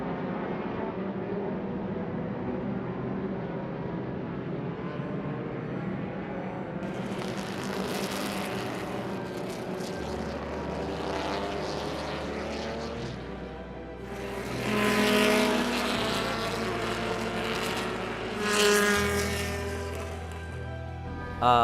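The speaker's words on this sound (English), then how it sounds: "With the sound of engines as our background, we are going to get underway with our pre-race ceremonies." Vintage race car engines at Circuit of the Americas during a national championship, a steady mix of idling and revving motors with louder swells toward the end, continuous and fairly close.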